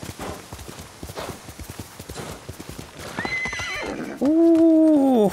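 Horse hooves clip-clop in a quick steady rhythm in Ghost of Tsushima, then a horse lets out a loud, long whinny up close at the end.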